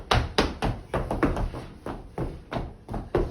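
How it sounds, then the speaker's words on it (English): Clumsy tap-dancing footsteps on a hard apartment floor: a string of sharp, uneven taps and thunks, close and fairly loud, with no talk. "Not only is that not very good tap dancing, it's very distracting to your students."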